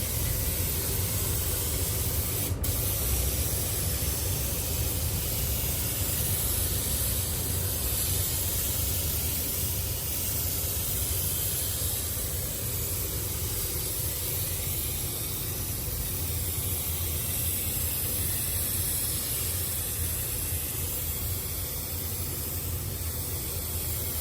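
Paint spray guns hiss steadily and loudly while coating a 30-year-old truck bed in a shop, a continuous broadband rush with no breaks and no talk.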